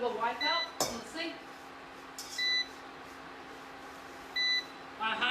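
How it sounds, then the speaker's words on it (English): Kitchen appliance gives several short, bright electronic beeps in spaced pairs, with a metallic clink of pans or utensils near the start, and someone talking nearby between them. "It's beeping, I know."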